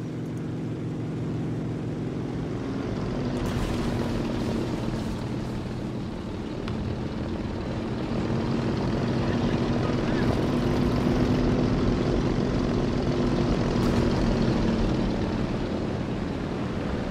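A propeller plane drones overhead during a World War II style multiplayer shooter match, a sustained engine hum swelling louder in the middle, with players talking over it and occasional sharp gunfire cracks.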